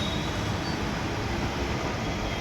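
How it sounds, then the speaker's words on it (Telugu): A metro train runs on an elevated track at Uppal in Hyderabad, producing a steady, even rumble of wheels and carriages without pause. "ఇట్లా పైన అయితే ట్రైన్ వెళ్ళిపోతుంది, స్టేషన్ కూడా పైన ఉంటుంది."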